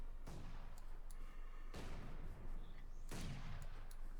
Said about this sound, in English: Both mortars firing